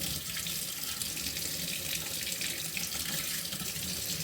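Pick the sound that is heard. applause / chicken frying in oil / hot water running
hot water running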